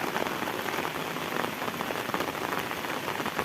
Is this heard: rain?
yes